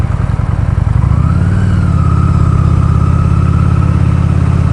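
A Kawasaki Vulcan Custom motorcycle engine runs steadily up close, a loud, continuous low rumble with a pulsing idle that rises slightly in pitch partway through and holds there, no talk over it.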